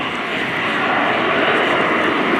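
Frecce Tricolori aerobatic jets flying in close visual formation at an air show, a loud continuous broadband jet roar that holds steady throughout with no talk.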